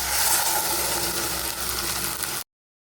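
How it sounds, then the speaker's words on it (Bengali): Boiled dal goes into hot mustard oil tempered with bay leaf, dry red chilli and fennel, setting off a loud, continuous sizzle that stops abruptly near the end. "এবারে দিয়ে দিচ্ছি সেদ্ধ করে রাখা ডালটা"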